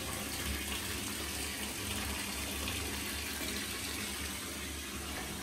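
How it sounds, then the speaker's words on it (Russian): Water runs steadily from a tap into a filling bathtub, a constant rushing gush with no pauses. "И еще хочу набрать полную ванну воды"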